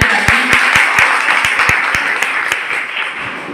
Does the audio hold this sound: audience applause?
yes